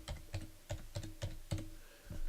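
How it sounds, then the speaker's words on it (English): Someone types on a computer keyboard while entering a search, a quick run of about eight close, crisp key clicks in an uneven rhythm, with no talking. "And if I type in floaters,"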